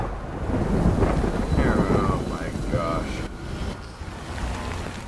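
Timefall rain pours with rolling thunder in the video game Death Stranding, a dense, loud, continuous wash of rain and rumble with faint higher tones drifting through it.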